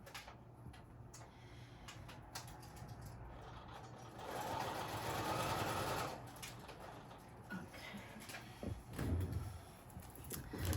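A sewing machine stitches through paper in a craft project, a faint, quiet mechanical whir with ticking clicks that swells into a louder, denser run midway before easing off.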